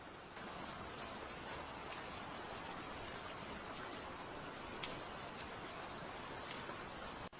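Steady rain falls in a dense, even hiss with faint scattered drop ticks, quiet and continuous throughout.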